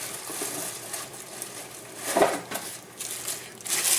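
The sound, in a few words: metal meat tray of a LEM meat grinder being handled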